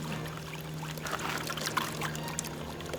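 Gold is panned from mine dump material in water, with sloshing, trickling pours and light splashes as the pan is swirled. A steady low hum sits underneath, and there are no voices.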